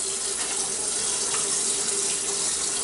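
Tap water runs steadily into a kitchen sink as a cup is filled for a recipe, a continuous close hiss and splash with no talking.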